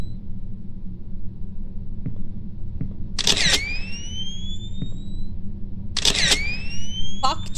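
Two crisp camera shutter clicks sound a few seconds apart in the video game Love, Sam, each followed by a rising chirp tone over a low rumbling background.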